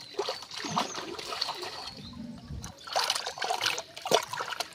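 Taro is washed by hand in water, with intermittent splashes and dribbles that come close together. Quiet, unclear voices sound faintly in the background.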